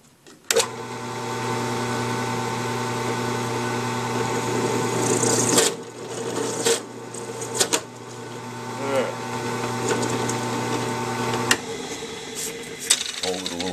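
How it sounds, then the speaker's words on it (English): A drill bores a hole during a DIY dive hookah build, a loud, steady motor whir close by with a few bumps and shifts in pitch, while people talk over it. "But it still drilled the hole and it didn't mess it up."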